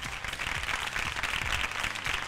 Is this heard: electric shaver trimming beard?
no